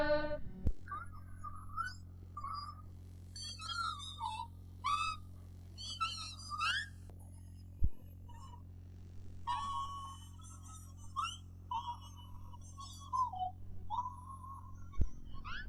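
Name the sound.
eerie whistle made with fish scales in mouth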